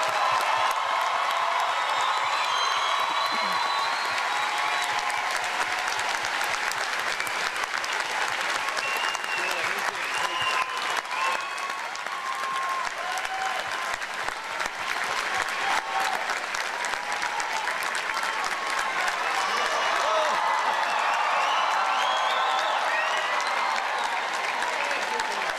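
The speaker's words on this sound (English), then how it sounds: "Now please join me in a brief applause for all our graduates." Sustained audience applause for graduates at a college commencement ceremony, a dense, even roar of many hands clapping with scattered cheers and whoops, continuing steadily throughout.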